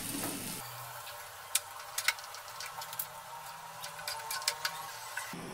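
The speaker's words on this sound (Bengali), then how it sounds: "এবার আমি জল দিয়ে দেবো।" Water poured into a pan of frying mushrooms during a Bengali mushroom kosha makes a soft, steady sizzle and bubbling, with scattered faint ticks and pops throughout and a brief louder burst at the start.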